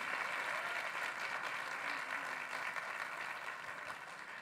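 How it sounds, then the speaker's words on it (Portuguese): Church congregation applauds a woman named Meire during a celebration service, a continuous, even roar of many hands clapping, heard at a slight distance and tapering gently near the end. "gostaria umas salvas de palmas a ela"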